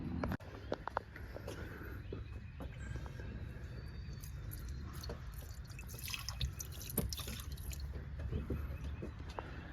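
Race gasoline is poured into the fuel system of a Buick Regal, a faint, continuous liquid trickle with a few soft drips and splashes, heard close-up for the whole stretch.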